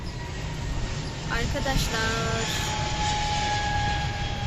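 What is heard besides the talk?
airplane flying overhead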